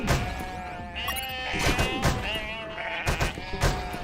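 A flock of sheep bleats insistently in the video game UNmetal, layered wavering calls close up, punctuated by several dull thumping hits.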